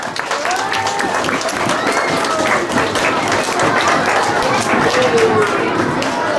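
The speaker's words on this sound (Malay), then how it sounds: "Berikan tepukan yang gemuruh." Thunderous audience applause at a school launch ceremony at SK Tagaroh, a loud, sustained roar of clapping from a large crowd, with cheering voices and chatter mixed in throughout.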